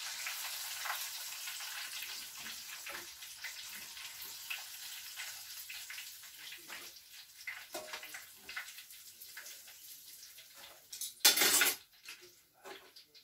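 Matsutake mushrooms deep frying in hot oil, a steady soft crackling sizzle running throughout, with occasional clinks of utensils against the pan and a brief louder burst near the end.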